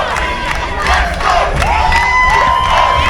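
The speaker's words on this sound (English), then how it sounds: "They're cheering, like screaming." Children's crowd at a school sports day cheering and screaming continuously, with rising shrieks and whoops over a steady roar of voices, close and loud throughout.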